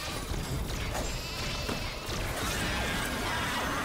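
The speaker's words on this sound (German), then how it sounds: "Leute, das sind Schafis!" Sheep bleating in the Ratchet & Clank video game on PS4, a few short bleats buried in dense, noisy game ambience and effects, steady and fairly loud throughout.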